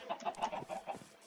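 Chickens clucking on a video game farm: a rapid run of short, close clucks with no talk over them.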